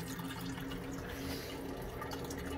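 A small electric fan blows across the surface of an axolotl tank, giving a steady, even wash of airy rushing and soft water ripple with no talking.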